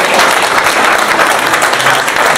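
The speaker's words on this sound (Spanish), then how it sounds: "Un aplauso para Colombia, Ecuador, que también nos acompañan en esta oportunidad." Loud, sustained applause from a large crowd at a book presentation event, steady clapping filling the whole stretch without a break.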